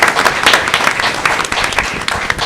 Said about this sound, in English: we want to first of all give the women that made those desserts a round of applause